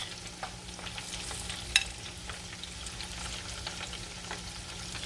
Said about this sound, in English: let's cook our salmon until each side will change its color into golden brown or light brown.